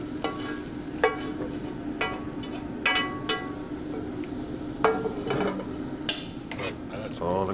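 Bacon frying in a pan, a steady close sizzle with occasional scrapes and clinks of a utensil stirring and scraping up the flavor; no talking.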